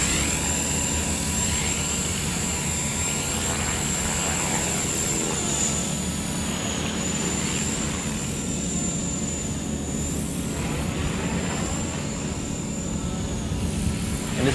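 A Walkera V400D02 six-channel flybarless RC helicopter flies in a small confined space, its rotor and motor giving a steady, loud, close whirring hum with a high whine that shifts slightly as it maneuvers; no voices.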